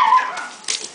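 Shiba dogs kept six to a cage at a Waimanalo puppy mill give a single high, close yip that trails off into a softer whine, with no talking.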